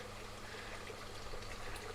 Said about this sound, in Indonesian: Dilakukan resirkulasi juga airnya kalau teman-teman mendengar gemericik air ya.